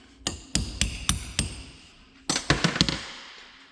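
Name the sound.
hammering a punch to drive out a joint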